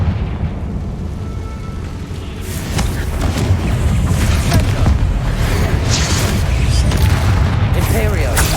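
Confringo spell explosions in the Hogwarts Legacy video game, a dense barrage of booming blasts and crackling bursts rolling continuously, with spoken voices mixed into the battle noise.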